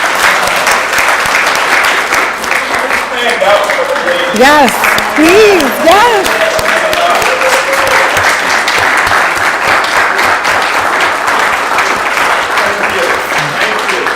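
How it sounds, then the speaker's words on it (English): A council meeting audience applauds its honorees in a full, steady round of clapping that lasts throughout, while a few voices speak briefly over the applause midway. "just give all of our honorees a round of applause one more time"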